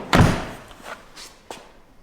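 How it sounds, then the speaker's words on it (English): Rear door of a Renault Trafic, Vauxhall Vivaro or Nissan Primastar van being shut, one loud close thud followed by a couple of softer knocks as it settles, heard alone. "Close the door."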